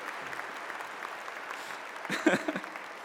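A small graduation commencement crowd gives a brief, quiet round of applause for the speaker's mother, faint scattered clapping building to a short burst near the end.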